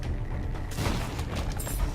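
Mama Mega explosions in The Binding of Isaac: Afterbirth+ go off as a dense cluster of booming blasts and crackling bursts, loud and continuous after a brief quieter opening, with no talk.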